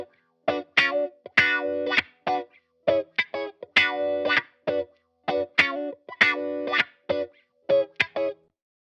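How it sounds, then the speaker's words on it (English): Fender Stratocaster through a Jim Dunlop Crybaby wah pedal plays choppy, distorted funky chords in short rhythmic bursts, the tone sweeping vocal-like between muffled and bright, with no talk. "let's just have a listen to the wah pedal so we can sort of see what we're going for"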